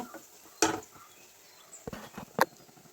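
Onions being stirred with a sprig of curry leaves in a pan for Kerala egg roast: a couple of brief scraping, clattering spoon strokes against the pan over a quiet background.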